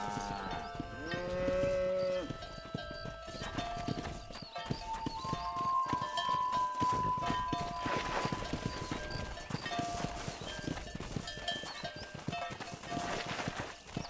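Cattle moo repeatedly amid clopping hooves and a busy orchestral score in the video game Red Dead Redemption, with the lowing drawn out and the music loud throughout.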